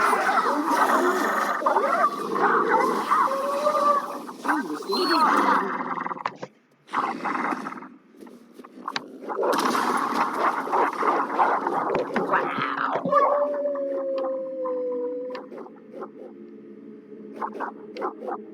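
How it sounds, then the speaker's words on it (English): A wolf growls and roars in the video game Dragon Age: Origins, with long rough snarling bursts, a brief pause, then more growls over game ambience. "Pretty doggy. Or wolf, I guess."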